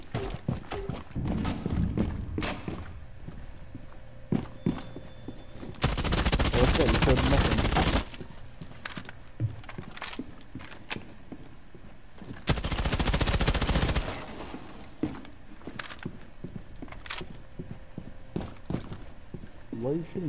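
Gunfire in the video game Rainbow Six Siege, two sustained loud bursts a few seconds apart over continuous game noise and footstep-like clatter, with people talking throughout.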